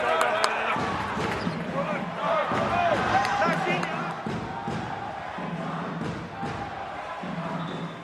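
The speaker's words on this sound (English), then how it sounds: "you see the crowd here today cheering on Iran" Basketball arena crowd cheering for Iran during a FIBA World Cup 2023 qualifier against China, a steady roar with basketball bounces and thuds on court, and voices talking over it.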